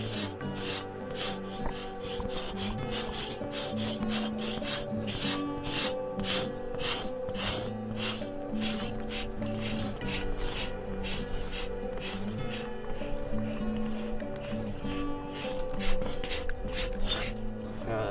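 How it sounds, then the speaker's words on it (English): Hair is scraped off a buffalo hide stretched on a rack in steady, rhythmic rasping strokes, close and continuous, each pull a gritty rub, with little talking. "What we're doing is we're scraping the hair off so we could prepare it for like a drum."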